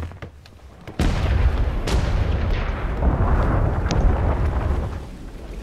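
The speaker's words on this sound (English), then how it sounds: "Oh, the mortars are active, yeah." Mortar tower artillery in a video game fires with a sudden heavy boom, followed by sustained rumbling blasts and a few further thuds, loud and close with no talk.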